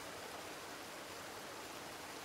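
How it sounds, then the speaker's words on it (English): Steady, dense rushing of a gurgling forest creek, an even wash of water noise with no pauses, fairly close and continuous throughout. "the lively gurgling of the creek"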